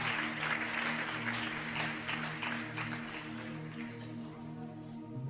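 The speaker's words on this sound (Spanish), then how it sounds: "Un aplauso fuerte al Dios que vive." Congregation clapping in church, a fairly quiet, steady wash of many hands over a sustained keyboard drone, with no talking.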